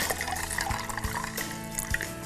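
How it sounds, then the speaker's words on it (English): Water pours steadily into a jug of Nimbu Pani lemonade, a continuous close splashing and gurgling with no voices. "I will add in some water."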